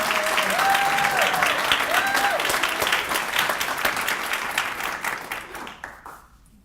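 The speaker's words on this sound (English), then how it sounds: "So if you can give him a round of applause as he comes up." An audience at a fall gathering applauds as a student speaker comes up, a sustained, fairly loud burst of clapping with a faint tone sweeping above it, tapering away over the final seconds.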